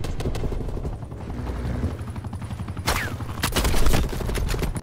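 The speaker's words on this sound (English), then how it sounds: "This fucking spy chopper, is that ours or theirs?" Spy helicopter in the video game Call of Duty: Black Ops Cold War droning steadily beneath dense bursts of gunfire, with a sharp blast of noise near the middle and another swell toward the end.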